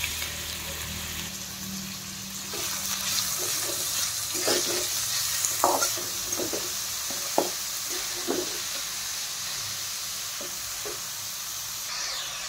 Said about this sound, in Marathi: आता मी कांदा टाकून घेणार आहे। छान आता लालसर हा आपल्याला भाजून घ्यायचा आहे।